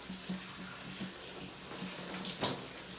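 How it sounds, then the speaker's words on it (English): Hair and face rinsed with running water, a faint, continuous trickle and splash with a few soft drips, quiet and close. "I'm gonna rinse off my hair like this, backwards, looking up"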